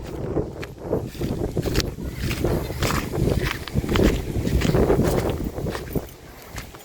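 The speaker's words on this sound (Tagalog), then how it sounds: "Di kinaya yung hangin sa sobrang lakas" Strong wind buffets the microphone in loud, uneven gusts, a rough rushing roar that swells and eases continuously with scattered thumps and no clear speech.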